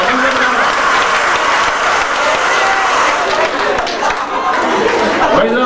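Polish wedding guests clap together in a loud, dense, steady burst of applause, mixed with lively crowd chatter and voices throughout.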